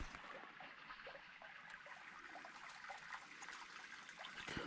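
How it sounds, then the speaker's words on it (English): Water trickles and cascades steadily somewhere below in the Simpson Desert, a faint, continuous babbling with small irregular drips, no voices. "You can hear water trickling here."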